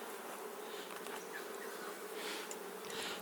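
Honey bees buzz steadily around a top bar beehive, a dense, continuous hum of many insects close by, with no talking.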